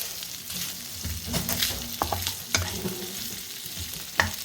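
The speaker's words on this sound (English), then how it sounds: "you fry some smoked bacon" Bacon sizzles and crackles in a hot pan with occasional scraping and stirring clicks, fairly close and steady.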